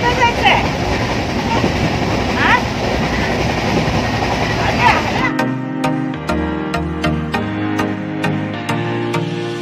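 The Jnaneshwari Express running, with loud steady rumble and clatter for about five seconds before the sound cuts to a different scene.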